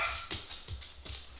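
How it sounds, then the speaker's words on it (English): A household dog barks in a few short, sharp yips spaced across a second and a half, faint and somewhat distant indoors, with no talk over it. "Hold on 1 second, my dog's barking."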